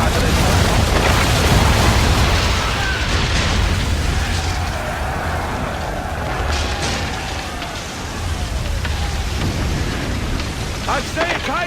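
Ship cannon fire during a storm at sea in Assassin's Creed 3, heavy booms half-buried in a dense, loud wash of rain, wind and crashing waves, with voices speaking over the din.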